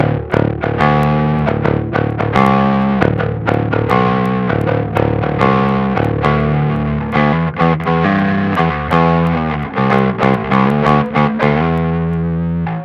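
Heavily distorted metal bass guitar, played with the cabinet simulation switched off, gives a bright, brittle tone. Fast picked riffs with chugging palm-muted notes run continuously and loudly, with no talking.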